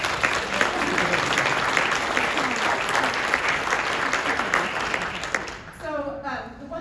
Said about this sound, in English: let's give both of these guys a huge round of applause